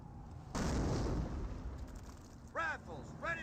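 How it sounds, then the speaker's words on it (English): Explosions in the World War II strategy game Company of Heroes: a loud, close blast erupts and rumbles for a couple of seconds, followed by short swept chirping effects. "I hear explosions."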